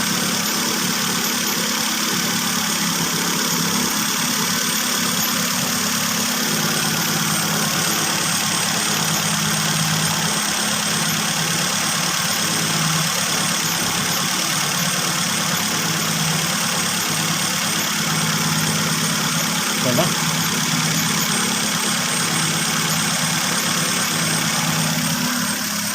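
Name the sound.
Toyota car engine idling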